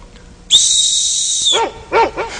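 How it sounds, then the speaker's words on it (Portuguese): A high-pitched dog whistle sounds for about a second, then a dog answers with several sharp, excited barks in quick succession, close and loud. "Ele começa a latir, fica todo excitado."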